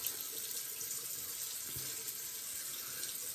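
A bathroom tap runs steadily into the sink for a quick rinse before a wet shave, a soft, even water hiss close by with no voices.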